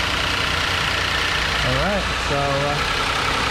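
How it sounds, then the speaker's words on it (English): A Kia Sorento engine with a faulty fuel pump idles with a steady, loud, even hum that runs throughout while someone talks over it. "So the engine is running right now."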